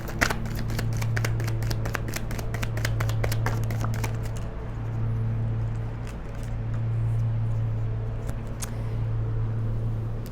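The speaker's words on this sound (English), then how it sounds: "I'm going to shuffle until I get a message from the feminine." Tarot cards being shuffled by hand, rapid crisp riffling clicks in a dense burst that thins into sparse card taps, close and clear over a steady low hum.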